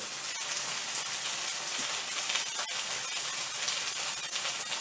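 A steady crackling sizzle of bread frying on a hot griddle for Korean street toast, close and even throughout with fine spattering texture and no voices.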